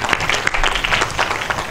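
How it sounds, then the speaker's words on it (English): A lecture audience claps together in a warm round of applause, individual claps audible within a steady, moderately loud patter that carries on evenly throughout. "give them a nice round of applause"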